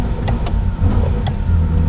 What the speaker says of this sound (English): if you ever hear or see an F40 and he's revving it like this non-stop